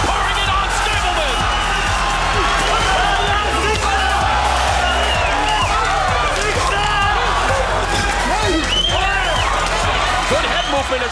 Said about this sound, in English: The Swedish crowd now really exhorting Sanny Dahlbeck, their hometown hero